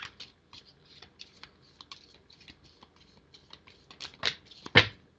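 Tarot cards being shuffled by hand, a run of soft crisp riffling clicks and taps, close and fairly quiet, growing louder with a few sharper snaps at the end.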